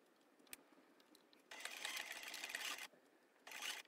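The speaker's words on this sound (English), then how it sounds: "I'm literally just going to sew over my pretty ribbon" Two bursts of a home sewing machine stitching red ribbon over the shoulder seam of a Tilly and the Buttons Coco dress, the first running about a second and a half, the second starting up briefly near the end, close and steady.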